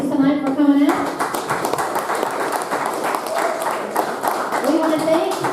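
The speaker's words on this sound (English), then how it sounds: "How about a round of applause for our live studio audience tonight for coming out?" Audience at a county jailer debate claps in a continuous steady patter while a person speaks over it near the start and end.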